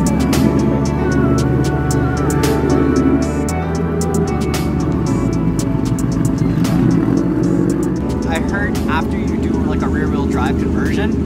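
Engine of a Subaru WRX STI converted to rear-wheel drive, heard from inside the moving car as a steady loud drone with gear changes and rising revs, and people talking over it throughout.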